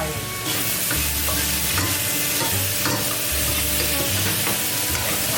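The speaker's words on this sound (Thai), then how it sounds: "เนื้อสัตว์ต้องผัดลงไปก่อนนะครับ" Meat and vegetables stir-fried in a wok for Hokkien noodles, with loud continuous sizzling and frying plus repeated scraping and stirring strokes of a utensil against the pan, steady throughout with no talk.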